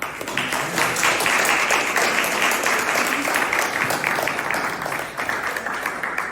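Steady applause from a crowd at a Father's Day step show and brunch event, dense and continuous clapping throughout with little variation in intensity.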